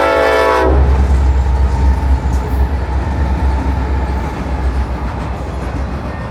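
Westbound freight train 211 led by three armor yellow EMD diesel locomotives near Lebanon, a brief horn blast at the start giving way to a loud, steady rumble of engines and rolling cars close by.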